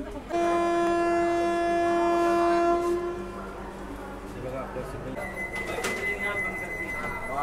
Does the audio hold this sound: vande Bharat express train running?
yes